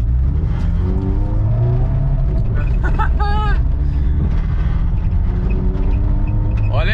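Low, steady engine rumble from a 2000 Fiat Palio car, heard from inside the moving car, with someone talking over the continuous drone.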